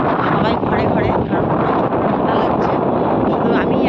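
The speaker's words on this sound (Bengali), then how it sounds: "এত হাওয়া বইছে না," Strong wind roars steadily across wide open fields, buffeting the microphone with loud, continuous rumbling gusts throughout.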